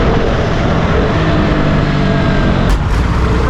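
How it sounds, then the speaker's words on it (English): Loud road traffic with cars and trucks on a road in Nagaland, India, heard as a continuous rushing roar with engine rumble and a brief higher whine near the end, recorded from a moving motorbike. "What a traffic!"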